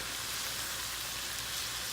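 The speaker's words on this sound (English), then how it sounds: "We're gonna allow all this to cook down for a few minutes, just so it can get the raw taste out of" Red peppers and other vegetables sizzle steadily in a pot for crockpot chili, a dense, even frying hiss with no breaks and no voices.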